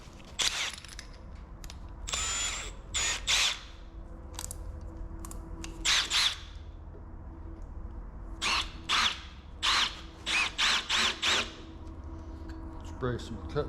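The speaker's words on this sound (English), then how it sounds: "I'm just going to go ahead and drill it out." A power drill bores out metal with cutting oil during work involving a Bauer grinder sander, sounding as short bursts of whirring that start and stop repeatedly over a low hum, with someone talking between the bursts.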